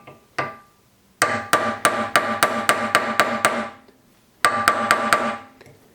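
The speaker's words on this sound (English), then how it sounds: "I'm only using like a little tiny carpenter's hammer. And I'm not smashing it because that will chip your tip of the chisel." A small carpenter's hammer taps a chisel to cut a groove for steel wire inlay, giving crisp, evenly spaced metallic strikes: a single tap, then a quick run of about ten, and after a pause a few more.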